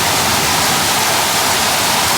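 Hard tropical rain in the Philippines drumming on a house, heard from indoors as a loud, unbroken wash of hissing noise with no pauses or speech.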